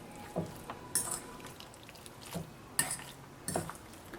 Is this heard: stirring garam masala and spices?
yes